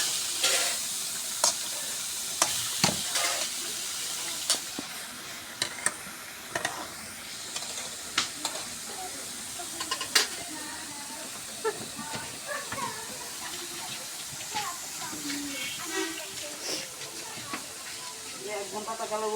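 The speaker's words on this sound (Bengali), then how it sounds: "চিংড়ি মাছ দিয়ে কুমড়া ভাজি" Pumpkin pieces frying with prawns, giving a steady hiss and sizzle punctuated by repeated scraping and clacking as the mixture is stirred in the pan, close by, with someone talking over it.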